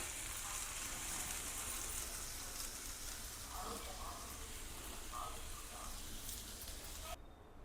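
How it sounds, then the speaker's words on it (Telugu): Okra frying in a pan for Telugu roti pachadi, a soft continuous sizzle with faint stirring, quiet and close, cutting off abruptly near the end. "ఇంకొక 2 నిమిషాలు వేయిందామండి"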